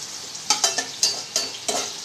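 Aromatics sautéing in palm oil while being stirred, with close sizzling bursts rising in a series of short surges, about six stirs over two seconds, no talk.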